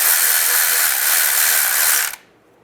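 A ratchet tightens the timing cover bolt on a 2007-2013 Chevy Silverado in a dense, rapid clicking that runs for about two seconds and then stops.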